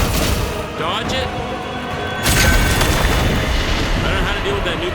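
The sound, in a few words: big explosion from a boss in the video game The First Berserker: Khazan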